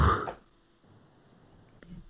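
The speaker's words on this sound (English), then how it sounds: "Oh yeah, those burps." One loud burp from a person drinking Coors Slice Lime beer during a beer review. It bursts out at the start and fades quickly into quiet room noise.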